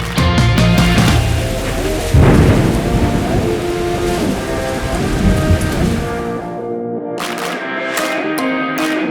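Steady rain falls across an outdoor park, a dense constant hiss with heavier patches, loud and close with no voices, and a low rumble that may be distant thunder.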